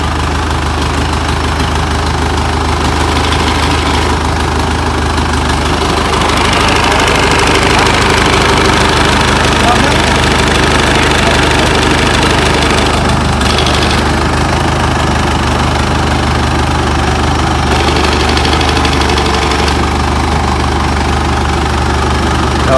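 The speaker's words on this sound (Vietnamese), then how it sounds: "Này là khởi động không tải nha." A boat engine idles steadily just after starting with no propeller load, a loud, continuous low rumble with a knocking pulse that holds unchanged throughout, close to the machine in a workshop.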